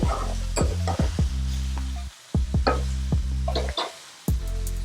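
Onions frying on high heat sizzle as a utensil repeatedly stirs and scrapes the pan in uneven strokes, with brief gaps between bursts and no voices.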